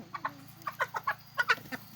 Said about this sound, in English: The hen don't like to be picked up.